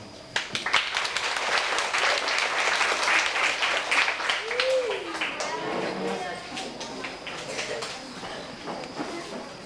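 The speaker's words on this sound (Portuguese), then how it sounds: "Vamos então aplaudir" An audience at a reading and writing seminar applauds, starting with sharp claps that swell into steady clapping and then thin out. Voices and a sung phrase can be heard under and after the clapping.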